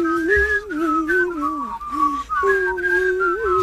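Several people whistle the Scottish tune Scotland the Brave together, a wavering group melody with slightly mismatched pitches, steady and moderately loud throughout.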